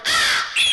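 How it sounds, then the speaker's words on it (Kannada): A single crow caw, loud and close, used as a sound effect in a staged Ramayana drama, lasting under a second with a brief second rise at the end. "ಕಾಗೆ ಗೂತ್ರಾದಿಗಳ ಚಿಕ್ಕಾರ ಬೇರೆ ಆರಂಭವಾಗಿದೆ."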